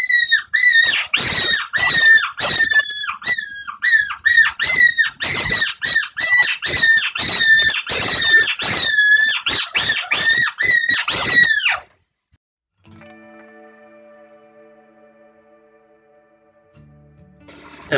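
A handheld fox caller with adjustable pitch imitating distressed prey lets out a rapid run of loud, high squealing cries for about twelve seconds, then stops, followed by faint low background noise.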